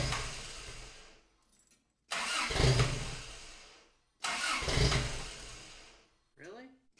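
A Ram 50 pickup fitted with a swapped-in Toyota engine cranks repeatedly without catching, with three long loud starter bursts separated by pauses and a short voice at the end.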